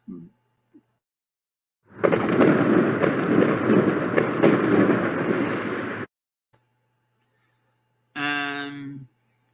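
A burst of fireworks crackles and booms densely for about four seconds, loud and close, as a sound effect during a live Premier League match-day score show; a voice follows briefly after a pause.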